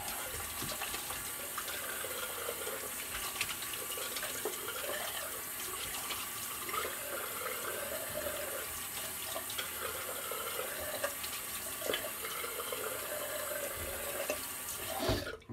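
Water runs steadily from a tap for a post-shave rinse, a close, continuous splashing hiss with slight fluctuations as hands move under the stream, ending abruptly.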